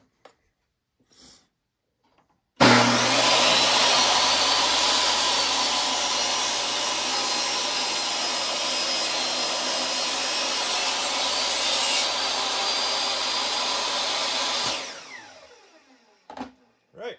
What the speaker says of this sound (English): Just a simple rip cut.